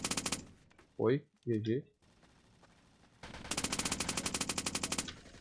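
Rapid automatic gunfire from a new gun in the Roblox game Polybattle. A short opening burst is followed by two brief voice lines, then a longer, loud, evenly paced volley of shots.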